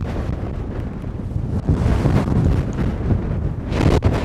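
Gusty wind buffets the microphone on the Royal Dornoch golf course, rumbling and whooshing in uneven bursts, with a stronger gust near the end.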